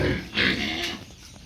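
A 40–50 kg pig grunts and squeals in short, rough bursts while being held and injected in the neck, loud and close for a second and a half.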